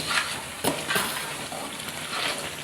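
Mysore pak mixture, with oil added, being stirred in a pan, giving a continuous sizzle with soft scraping strokes and a few sharper spoon knocks against the metal.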